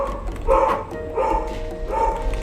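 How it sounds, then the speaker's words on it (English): Dogs barking in the video game Quest for Glory II, three loud yelping barks spaced about a second apart over faint background game sound. "And the dogs are going crazy."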